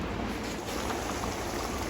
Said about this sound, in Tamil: இதெல்லாம் நல்லா கொதிக்கட்டும்.